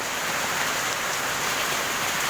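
A dense typhoon downpour falls hard and continuously, a loud, even roar of rain hammering surfaces throughout.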